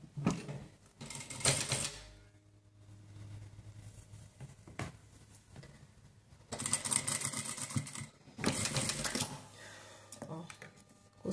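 Sewing machine stitching a diaper bag in bursts of rapid mechanical chatter, separated by quieter pauses with handling noise and a low steady hum.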